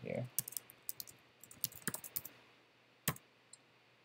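Quiet, close keystrokes tap out a link on a computer keyboard in an irregular burst of clicks, followed by a sharper click after a brief pause.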